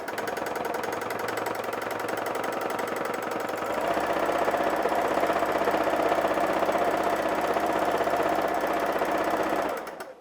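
A sewing machine quilting fabric runs in a steady, fast mechanical whir and rattle, close and continuous, speeding up slightly partway through before stopping at the end.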